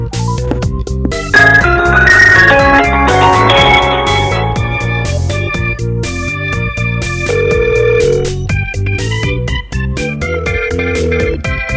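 A phone call rings out during a Sudden Attack game session, a loud, continuous melodic ringback tone looping for several seconds with no one speaking.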